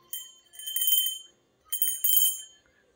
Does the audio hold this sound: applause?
no